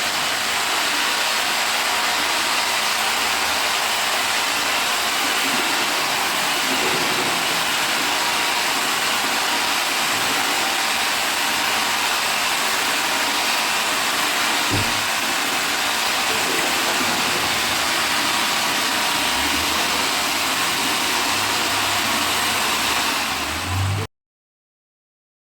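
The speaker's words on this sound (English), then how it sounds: "I'll be using a machine to stir it." A machine stirring a homemade soap mixture made from used cooking oil produces a loud, steady motor whir and churning rush that runs unbroken for about twenty-four seconds before stopping abruptly, with no speech.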